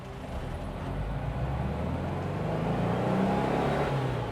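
A Porsche 356 pulls hard in first gear, its engine note rising steadily and loud throughout, heard close from inside the car with no talk.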